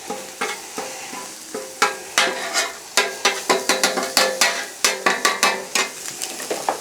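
Garlic and ginger sizzle on a Blackstone griddle for pork fried rice, a spatula scraping and tapping the hot metal in quick repeated strokes over a constant frying hiss.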